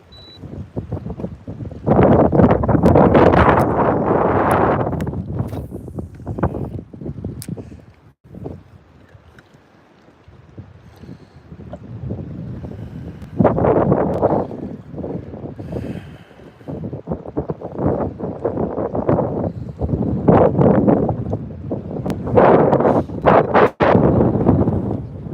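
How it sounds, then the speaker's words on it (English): Gusty wind buffets a microphone on a bass fishing boat, loud rumbling bursts swelling and dropping in waves, with a quieter lull in the middle and no talking. "this wind is not giving me a break today"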